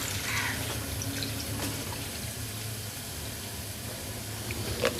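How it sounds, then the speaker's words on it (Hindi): Two litres of water poured into a cooking pot of Punjabi sarson ka saag set on a stove, a steady close splashing pour lasting several seconds with no talk. "साग में मैं डाल दूँगी 2 लीटर पानी।"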